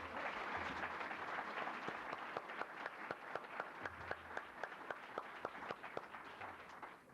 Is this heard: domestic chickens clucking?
no